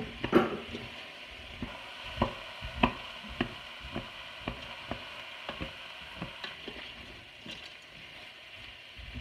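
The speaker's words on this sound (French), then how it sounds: "On les fait revenir un tout petit peu avec les oignons." Lentils and onions sauté in a pot, a steady low sizzle broken by repeated clinks and scrapes of a spoon stirring, fairly close and moderately quiet, with no talking.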